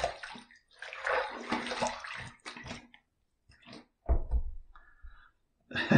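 A razor being rinsed under a running tap after a shave with shave cream, heard as bursts of splashing water that stop and start, with short knocks and gaps between them.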